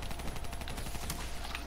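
Rapid automatic gunfire from the zombie video game Call of Duty: Black Ops III Shadows of Evil, a dense continuous rattle of shots throughout.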